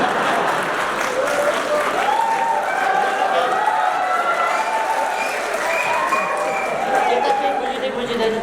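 A crowd at a Nepali political gathering keeps up continuous, fairly loud applause while a voice talks over it.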